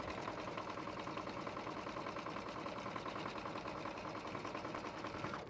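A sewing machine stitching a bean stitch runs with a steady, continuous mechanical whir and rapid needle chatter. It is moderately faint and heard alone, without speech.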